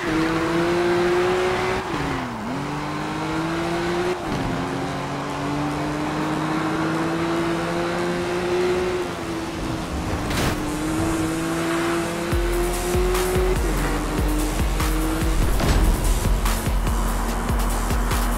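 Engines rev and shift gears as cars race in Need for Speed Rivals, with a continuous droning engine note dipping and climbing repeatedly alongside occasional tire noise and rumble.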